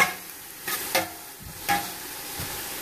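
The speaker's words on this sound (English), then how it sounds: "Now I'm just going to give this a mix." Onion and minced garlic stirred in a pot for a smoked Carolina Reaper dump chili, giving a few soft scraping strokes over a faint sizzle, close and without talk.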